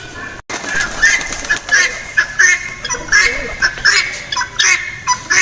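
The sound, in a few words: birds kept at a shrine, ducks and pigeons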